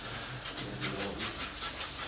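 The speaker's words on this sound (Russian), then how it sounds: "ну и берем 2000-ю шкурочку, замываем это место хорошо, проливай" Wet sanding of a lacquered surface with 2000-grit sandpaper, producing a steady, close rhythmic rubbing with regular back-and-forth strokes, alone and fairly quiet.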